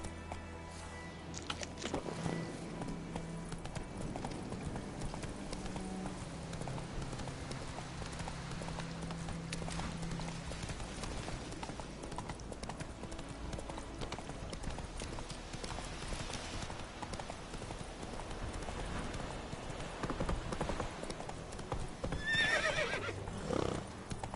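Hooves of a horse in the video game The Witcher 3 clip-clop steadily at a gallop, with a loud neigh and whinny breaking through, all set against a dense game soundtrack and ambience that runs throughout.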